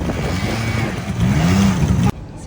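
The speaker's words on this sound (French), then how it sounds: "On va faire un peu de quad." Quad bike engine running loud and close, a steady throaty rumble that swells slightly before cutting off abruptly near the end.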